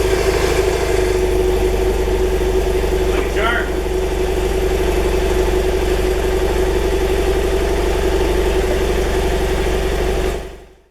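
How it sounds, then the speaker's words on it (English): A motorcycle engine idles steadily while warming up, a close, even putter with a constant low rumble, before cutting off abruptly at the end. "We're gonna let the bike warm up for a little bit here"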